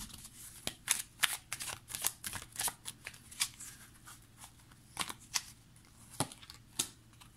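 Tarot cards shuffled and cut by hand at close range, with a run of crisp riffling bursts and sharp snaps at uneven intervals. No one speaks.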